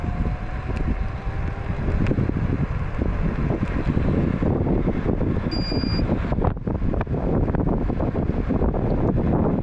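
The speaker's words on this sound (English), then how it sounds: "I'm hitting a pretty strong headwind, so it's blocking the top speed some." A strong headwind roars across the microphone while riding a Hover-1 Journey electric scooter, a loud, steady buffeting rush throughout with gusty fluctuations and occasional faint knocks.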